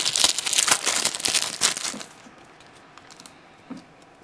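Foil wrapper of a LEGO Ninjago card pack torn and crinkled open up close, a loud burst of crackling for about two seconds, then quiet with one small rustle.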